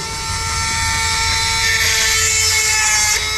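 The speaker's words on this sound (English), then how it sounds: "it's a little handy tool there for to sharpen the blade" A battery-operated 12 volt blade sharpener runs in a workshop with a steady, close electric whine that grows brighter as the blade meets the grinder, holding for a few seconds.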